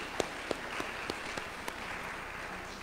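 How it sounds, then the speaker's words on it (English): Church audience applauding a nursery volunteer during a Sunday service, a steady wash of moderate clapping with a few sharper individual claps standing out, no talk over it. "let's give her a round of applause"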